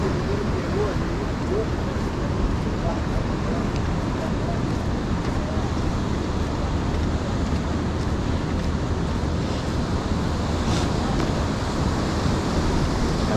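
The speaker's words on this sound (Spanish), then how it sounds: "Mira, mira cómo rompen las olas ya," Steady roar of ocean waves breaking continuously at Barra da Tijuca beach in Rio de Janeiro, loud and close, with a constant wash of surf and some wind noise.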